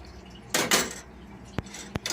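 A spatula stirs capsicum, onion, tomato and turmeric in a pan, giving a few close scraping strokes followed by two sharp clinks against the metal.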